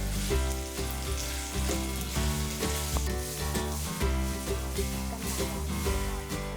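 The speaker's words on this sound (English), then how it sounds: "First turn on the stove and add some cooking oil." Cooking oil sizzling in a pan on a stove for a vegetarian Hakka stir fry, a steady, dense crackling hiss that runs unbroken throughout, close and fairly loud, with no voices.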